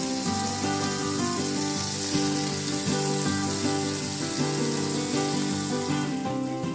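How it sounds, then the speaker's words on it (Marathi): Prawns frying on a hot griddle pan give a steady, even sizzle and hiss throughout, heard under continuous background music with no talking. "आता 1-1 करून या कोळंबी आपण तव्यावर फ्राय करण्यासाठी ठेवून घेऊयात।"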